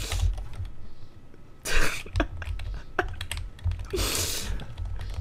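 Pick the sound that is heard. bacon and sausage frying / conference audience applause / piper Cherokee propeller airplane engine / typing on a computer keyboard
typing on a computer keyboard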